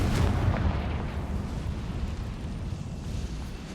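A Confringo fire spell explodes in Hogwarts Legacy, heard as a loud, low, rumbling blast that roars at the start and then tails off into a long booming decay.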